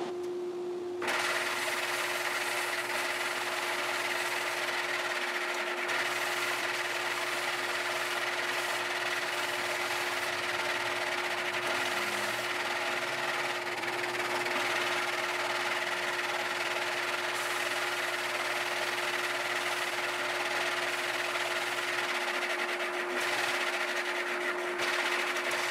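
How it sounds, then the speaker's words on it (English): A radius sander works a Taylor guitar neck in a workshop, giving a steady, continuous abrasive rasping over a constant motor hum, close and even throughout. "Now back to the radius sander one more time."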